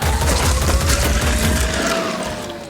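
Sustained gunfire in the video game Phoenix Point, a dense rapid fusillade of shots that stays loud throughout and fades slightly at the end, with no talking.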